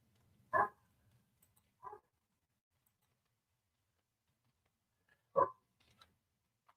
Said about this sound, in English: I hear the puppy downstairs.